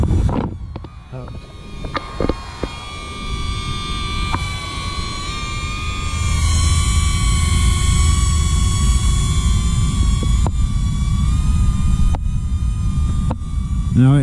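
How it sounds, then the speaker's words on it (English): A small DJI Neo drone hovers and flies, giving a steady, loud, high propeller whine that rises after a few seconds and holds, with people talking now and then over it. "No, it ain't a big drone"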